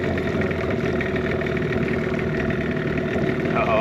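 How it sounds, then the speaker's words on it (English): Inboard motor of a sailboat idles in Greece, a steady low chugging drone, close and continuous, with a faint rising tone near the end. "Listen to that motor idle. It's getting lower. Is it gonna die?"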